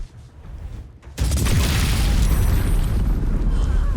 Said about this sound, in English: throw the Alchemist Fire here so that we hit as many people as possible with that. And that'll also blow up the room powder bomb as well